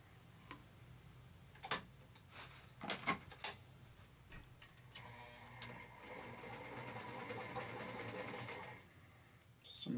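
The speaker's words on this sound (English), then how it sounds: "I'll be sewing it from the front to the back on this one." A sewing machine stitches a sweater sleeve. A few scattered clicks and taps come first, then the machine runs in a steady, close mechanical whir for several seconds before stopping.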